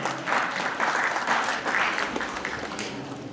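An audience at a children's poetry recital applauds steadily for a few seconds, dense clapping throughout that tapers slightly toward the end.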